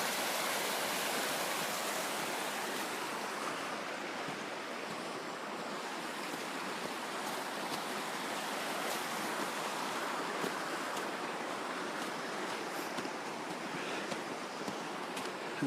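A creek rushes through Sawtooth Canyon in a steady, broad wash of water that holds one level throughout, with faint wind mixed in and no voices.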